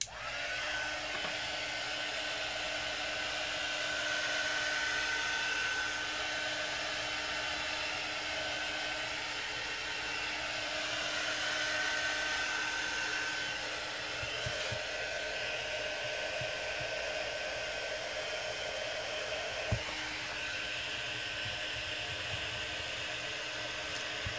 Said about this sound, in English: I'm going to dry this just for a little bit